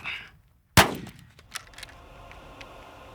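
One loud, sharp report from a suppressed Langdon Beretta 1301 tactical shotgun cracks out after a brief silence, followed by a quick ringing decay and a few light metallic clinks.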